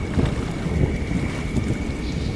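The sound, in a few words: gusty wind in a storm, cartoon effect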